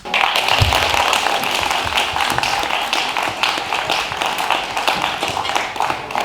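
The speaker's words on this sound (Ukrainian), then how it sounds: "Тому ці оплески для вас" Dense, steady applause from a large crowd at a school concert fills the whole stretch at an even, loud level, with no pauses or voices breaking through.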